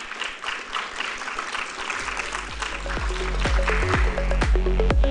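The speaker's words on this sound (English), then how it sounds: "Can I have a big round of applause," A conference hall audience claps to welcome a speaker onto the stage at a tech talent event in Tamil Nadu, with loud booming music and drum hits rising beneath the applause.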